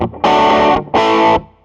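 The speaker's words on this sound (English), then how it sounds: "I just want to demonstrate this equalized pedal" An electric guitar played through an equalizer pedal, two loud distorted sustained chords struck in quick succession, each ringing briefly before cutting off.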